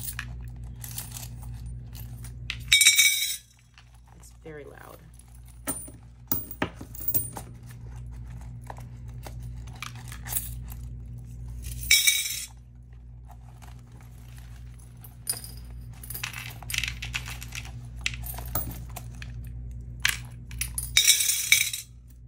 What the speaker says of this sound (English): This is gonna be my first empty of my coins since I got my new little ghost jar.